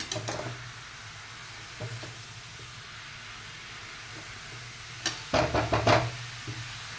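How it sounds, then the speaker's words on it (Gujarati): Carrot halwa cooking in a pan, quiet soft sizzling broken by a few louder bursts of scraping and stirring toward the end. "હવે આપણે આવી રીતે થોડીક વારે હલાવતા રહેવાનું."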